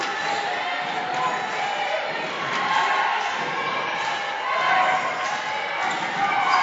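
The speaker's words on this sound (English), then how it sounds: "Little defense chant here from the home crowd." A home crowd at a women's university basketball game keeps up a rhythmic defense chant, loud and echoing in the gym, with squeaks and bounces from the court underneath.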